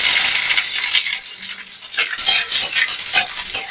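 Chopped onions hit hot mustard oil already seasoned with whole garam masala and fry with a loud, bright sizzle, stirred and scraped close up, with no talking.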